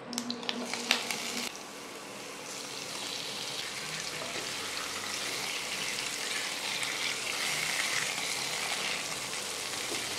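Fish heads fry in hot mustard oil in a wok, a steady close sizzle that swells after a few sharp clinks and spits at the start.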